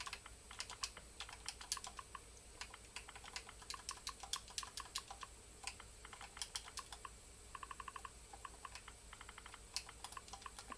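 Quiet typing on a computer keyboard, with irregular bursts of rapid keystrokes separated by short pauses, including a few quick evenly spaced runs, with no other sounds.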